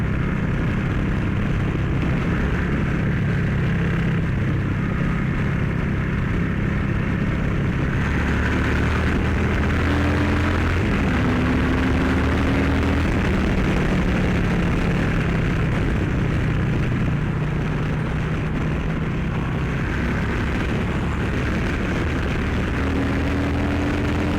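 A Harley-Davidson Street Bob 114 motorcycle fitted with a Dynojet Power Vision tune pulls hard through the gears, its engine a loud, continuous rumble with pitch rising and falling as it climbs through each gear.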